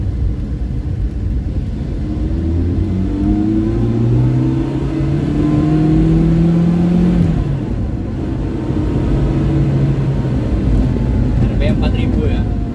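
A 2007 Daihatsu Zebra Espass engine pulls in second gear from about 2000 rpm, a steady close droning hum that rises gradually in pitch, with someone talking over it throughout.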